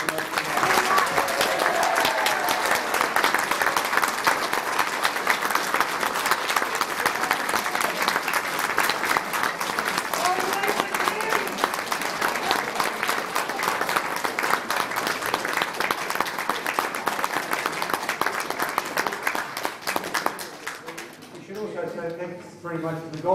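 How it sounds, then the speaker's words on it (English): An audience at a golf club gathering gives a speaker a long, steady round of applause, dense clapping lasting about twenty seconds before fading and a voice begins talking. "we might just join our hands together for a quick round of applause"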